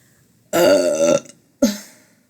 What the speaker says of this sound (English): I burp. Women burp, y'all.